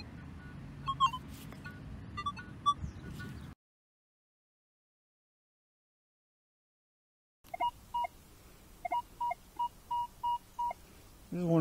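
A CTX 3030 or Equinox 800 metal detector gives short, clipped target tones in bursts. Faint background noise and a gap of silence split the beeps.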